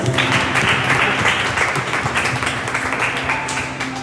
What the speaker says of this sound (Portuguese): Uma salva de palmas, vocês são bons demais.